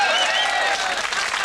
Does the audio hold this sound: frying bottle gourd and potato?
no